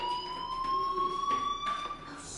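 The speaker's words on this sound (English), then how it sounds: "do you hear that fire alarm?" A fire alarm rings in the game Life is Strange, a steady electronic tone with a sustained pitch that holds evenly throughout at moderate loudness.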